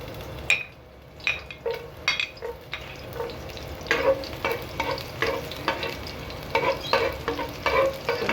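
Garlic sautés in a pan for chicken tinola, a soft sizzle beneath repeated metal spatula clinks and scrapes that come in quick irregular bursts, close and fairly loud.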